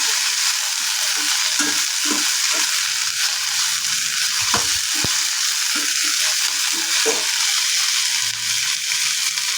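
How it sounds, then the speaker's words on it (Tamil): Curry leaves and coriander stems sautéing in hot oil in a pan, a constant close crackling sizzle with soft stirring scrapes and taps scattered through, no talk. "இதையும் வதக்கிட்டு நம்ம முருங்கைக்கீரையும் சேர்த்து வதக்கிக்கலாம்"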